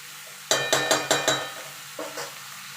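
Spatula strokes mixing vegetables and a fish head in a pan, five quick sharp scrapes in a row, then two softer clinks over a low sizzle.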